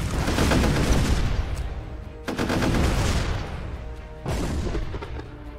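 Weapon fire in the artillery game Shell Shock Live, a portal shot: a loud, dense roar of rapid blasts that drops off and surges again twice, like sustained gunfire and explosions, with no talking.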